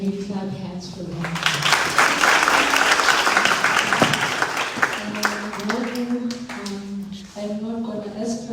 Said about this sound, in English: Can you clap hands for them?